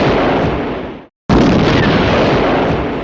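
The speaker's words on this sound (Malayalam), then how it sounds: "ഇപ്പൊ ഓണത്തിന് പടക്കം പൊട്ടിക്കോ?" Firecrackers burst during an Onam skit at IIT Guwahati, a loud, dense roar of blasts that cuts out abruptly to silence for a moment, then resumes just as loud.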